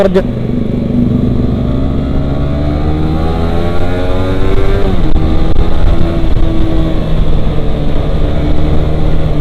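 A Suzuki GSX-R 150 motorcycle revs hard at full throttle, its engine drone climbing steadily in pitch, dipping briefly around the midpoint and then rising again. It stays loud and close throughout, with wind rush and no voices.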